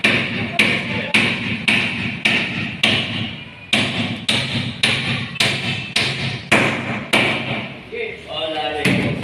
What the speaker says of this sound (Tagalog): diretso na agad, pukpok na.